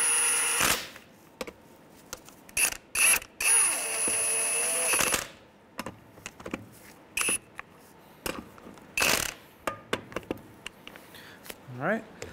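A ratchet fitted with a 19 mm socket snugs the lug nuts on a 2003-2011 Honda Element wheel after a front strut replacement. It gives bursts of close, rapid clicking and tool clatter broken by pauses.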